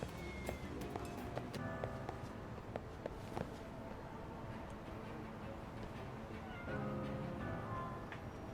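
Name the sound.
cat meowing in the video game Lost Judgment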